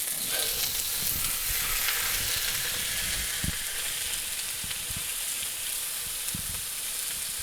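About 2.5 pounds of shrimp with jalapeños and pepper sizzle and fry steadily in a hot pan for a crowd-sized batch of tequila-lime shrimp, a dense continuous hiss with a few soft knocks of stirring.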